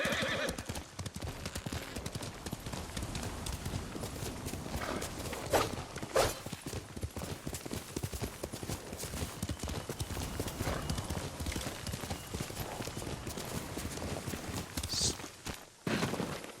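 A horse clip-clops along with steady hoof beats and lets out a whinny or two, close by and fairly loud throughout, with a few voices briefly underneath.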